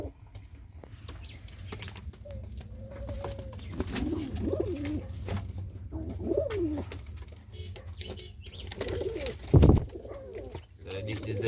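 Capuchine pigeons in a breeding loft in Jamaica coo repeatedly in soft, rolling calls at close range, with a faint thump and some background noise.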